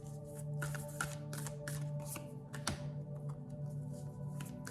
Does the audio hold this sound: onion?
no